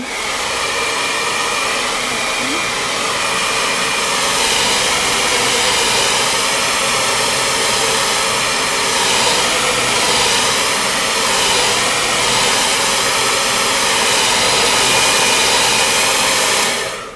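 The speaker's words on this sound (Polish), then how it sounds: "podsuszamy to suszarką" Hair dryer blowing on a wig, a steady, loud whooshing roar that runs unbroken for about seventeen seconds with no voices over it.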